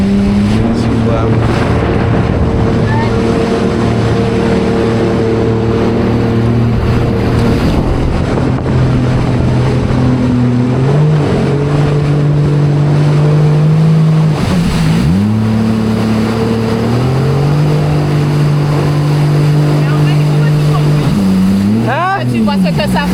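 A jet ski on the sea off Guadeloupe drones steadily and loudly, its engine pitch rising and falling as it rides across waves, with wind buffeting the microphone and water splashing throughout.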